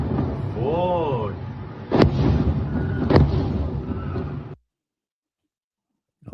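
Explosions boom in sharp, loud bursts, two distinct blasts over a rumbling background, while a voice talks at the start before everything cuts to silence.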